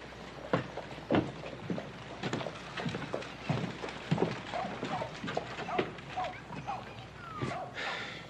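Hooves clop on hard ground in an irregular rhythm, fairly close, with a horse snorting and people talking quietly in the background.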